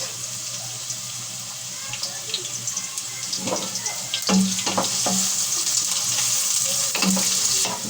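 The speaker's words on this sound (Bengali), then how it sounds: "পেঁয়াজগুলি হালকা বেরেস্তা করে নিব।" Onions frying until lightly golden in a pan for a chicken handi, a steady watery sizzle with scattered crackles and pops throughout, no talking.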